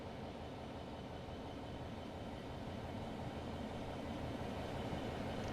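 A Class 66 diesel hauling an aggregates freight train in Train Sim World: Cargo Line rumbles steadily, a dense continuous drone of engine and wagon noise that swells slightly toward the end, with no voices.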